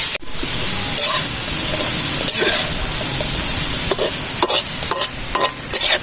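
Sand fleas (tipas) fry in a pan with a loud, continuous crackling sizzle, broken by repeated scraping stirs and clicks of a utensil throughout.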